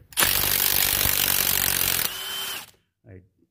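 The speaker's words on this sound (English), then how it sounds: "the Milwaukee is just a beast, isn't she? That's a 3/8 gun, too." A Milwaukee 3/8 impact gun working on a Dodge Dakota clutch job gives one loud, close burst of about two seconds, then winds down into brief faint clunks.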